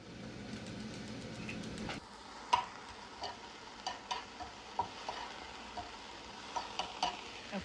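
Peppers and onions cooking in a pan, a steady sizzle at first that drops away, followed by a string of clear spoon or spatula taps and scrapes at irregular intervals.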